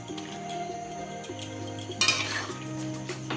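Onions and tomato get stirred in a pan, a utensil clinking and scraping against the metal over a low sizzle, with a brief louder burst of frying partway through.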